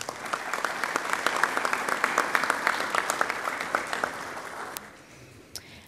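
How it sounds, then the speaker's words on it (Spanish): Hearty audience applause at a business productivity lecture event, honoring small companies and their teams; a full, even round of clapping that stops abruptly near the end, followed by a couple of faint stray sounds. "regalemos un fuerte aplauso,"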